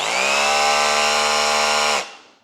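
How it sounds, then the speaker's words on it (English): A Flex SDS rotary hammer runs in rotary hammer mode, a loud, close, steady whine with a dense buzzing texture that holds for about two seconds before the motor cuts off and spins down. "Once again, on rotary hammer mode."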